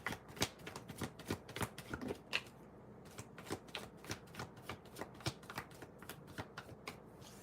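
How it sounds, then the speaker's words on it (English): Tarot cards are shuffled by hand, giving a quick run of crisp riffling and tapping bursts in an uneven rhythm. The sound is close but soft, with no talk. "I have to shuffle the cards again."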